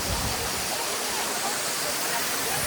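Water pours down Bhivpuri waterfall near Karjat during the monsoon, making a steady, dense hiss and rumble that fills the whole stretch without pause, heard from nearby.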